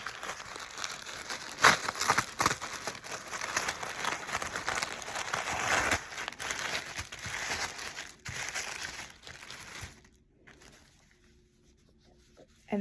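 Plastic bouquet wrap with a sticker is handled and crinkled close up, giving a steady crackly rustle with a few sharper crunches before it thins out into near quiet at the end.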